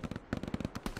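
Rapid bursts of gunfire in Hell Let Loose, a World War II shooter, crackling in quick irregular volleys over a one-second span.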